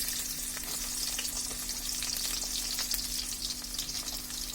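Chopped onions hitting hot oil in a pan for vegetable khichuri, giving a steady, dense sizzle with faint crackles and a low constant hum underneath, close and continuous with no talking.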